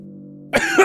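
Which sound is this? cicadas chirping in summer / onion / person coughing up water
person coughing up water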